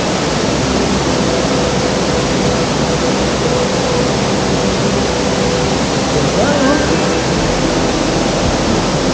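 Imugan Falls waterfall rushing as a loud, dense, unbroken roar of falling water heard close up, with faint voices briefly audible under it.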